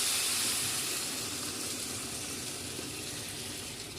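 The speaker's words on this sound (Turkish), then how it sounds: "sıcaklığımızı suyumuzu veriyoruz." Hot water poured into a pot of bulgur, giving a steady, fairly quiet broadband hiss and rush that holds evenly throughout with no voices.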